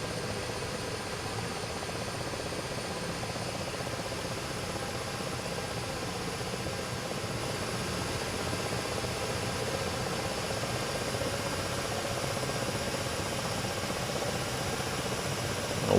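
An aircraft engine in the DCS flight simulator during takeoff, a steady loud droning roar with a constant buzzing hum that holds evenly and swells slightly toward the end, no talk.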